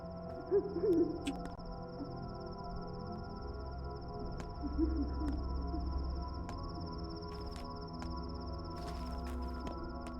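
An owl hoots low and mellow a few times over a steady electronic hum and a faint high whine, with the calls clustered near the start and again midway.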